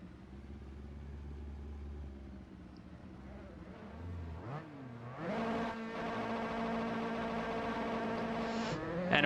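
An RSR Formula 3 race car at a Silverstone race start in Assetto Corsa, the engine droning low then revving hard, climbing in pitch through quick upshifts with short dips between gears, loud and close.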